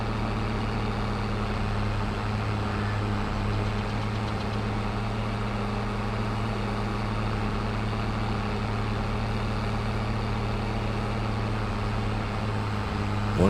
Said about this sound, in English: I do like this case tractor though.